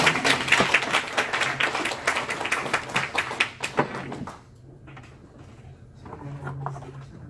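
Applause from a church audience at an elder-training lecture greets a pastor being introduced; dense clapping fills the first four seconds, then thins to a few scattered claps and low room murmur.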